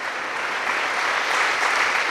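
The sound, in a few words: applause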